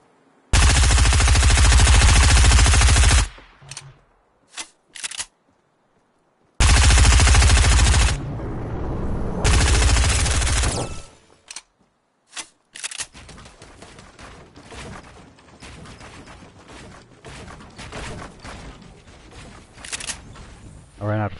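Video game gunfire in long sustained automatic bursts, loud and close, broken by short gaps and single shots, followed by quieter scattered shooting; players talk over parts of it.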